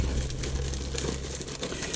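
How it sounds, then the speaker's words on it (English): Steady crinkling and rustling of a plastic bag as a revolver trigger assembly is placed inside, close and continuous, over a low constant hum, with no voices. "I'm going to put the trigger assembly in a plastic bag"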